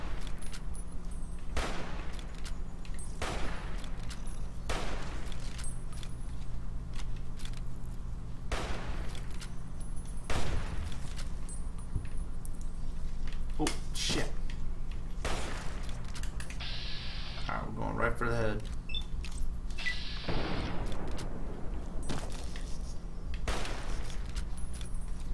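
Gunfire from ballistic guns in Fallout: New Vegas, scattered sharp shots over a steady game background hum, a few spaced bursts and some brief metallic clatter, no talking.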